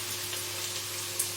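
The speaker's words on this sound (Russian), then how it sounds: "Продолжаем все жарить." Onion and chopped apple frying in a pan for ruby borscht, a steady soft crackling sizzle held close and even throughout, with one brief sharper pop near the end and no voices.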